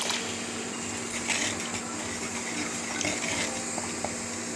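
Cooked moong dal is poured into a pot of amla (nellikai) rasam, a steady liquid rush and splash heard close and continuous with no talking.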